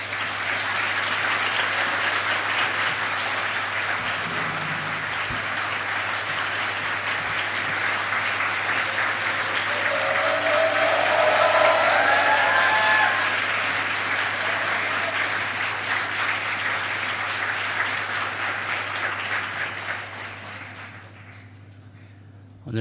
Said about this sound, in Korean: 목사님 나오실 때 한번 큰 환영의 박수를 해주시기 바랍니다.